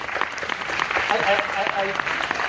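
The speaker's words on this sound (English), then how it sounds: "Absolute round of applause" Applause from a seminar audience, a short burst of clapping with a voice speaking over it, fairly loud and even across a couple of seconds.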